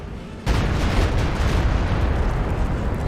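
A heavy artillery barrage in Company of Heroes 2 erupts suddenly into a loud, sustained roar of overlapping explosions and rumbling booms that continues without pause.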